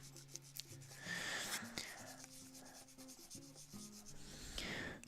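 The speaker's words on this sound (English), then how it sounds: "Time to sand it down." A small plastic part from a Kamen Rider W model kit is sanded by hand, producing quiet, close scratchy rubbing strokes in short irregular bursts, with faint clicks and handling noises in between.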